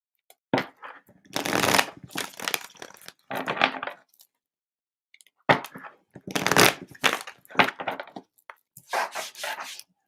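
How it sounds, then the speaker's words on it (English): Playing cards being shuffled in two bursts of crisp, rapid riffling and bridging, close up, with a short pause between them. "Do 2 more clearing shuffles."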